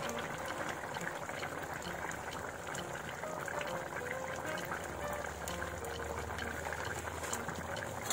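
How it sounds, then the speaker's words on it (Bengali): A pot of black carp fish curry, made from a 22 kg fish, bubbles and simmers steadily at a low, even level with a continuous fizzing burble and no voices. "আর 5 মিনিট ফুটতে দেবো।"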